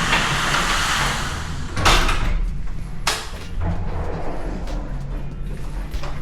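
A door in a Pattaya condo slides or swings open to reveal a washing machine, with a couple of sharp thumps and rattles over a low room hum.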